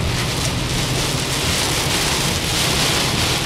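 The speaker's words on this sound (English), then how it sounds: "Whoa, it's raining, it's pouring." Heavy rain during a storm in Orlando hisses in a dense, unbroken roar, loud and close, with a low rumble underneath and no voices.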